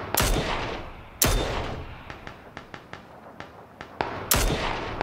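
Gunfire in the PUBG battle royale game: a few loud, sharp shots with long decaying tails, separated by a scattered series of fainter, quicker cracks at irregular intervals, with no speech.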